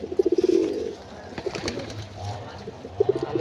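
Pigeons being hand-fed grain, with close, loud bursts of soft rhythmic cooing at the start and near the end and quieter rustling and pecking between them, with no talking.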